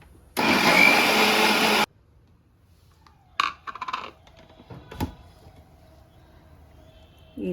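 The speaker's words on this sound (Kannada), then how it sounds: "ತುಂಬ ನೀರು ಹಾಕೀಗ ಮತ್ತೆ ಮಿಕ್ಸರ್ನಲ್ಲಿ ಮಿಕ್ಸ್ ಮಾಡ್ಕೊಳ್ಳಿ" Kitchen mixer grinding soaked fenugreek seeds with plenty of water: a loud whirring burst for about a second and a half, then quieter clinks and handling noises from the jar.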